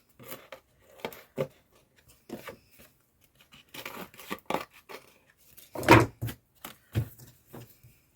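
Scissors cut excess paper off a junk journal page, giving a series of separate crisp snips and rustles, close and fairly quiet, with no talking.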